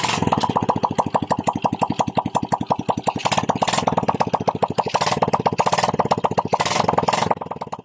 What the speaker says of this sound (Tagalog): Paandarin natin ang kanyang motor guys.